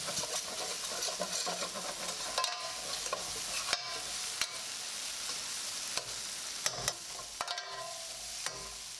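A Trini-style catfish curry base with green mango is stirred continuously in a pot, producing a low steady sizzle broken by repeated scraping clicks of the spoon against the pot.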